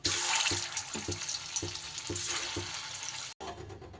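Dough balls deep-frying in hot oil make a loud, continuous close-up bubbling sizzle, with soft rhythmic taps from stirring and a brief break near the end.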